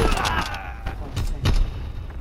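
Gunfire in Call of Duty: WWII, a few loud booming shots spaced apart over a dense rumbling battle background, fairly close and punchy.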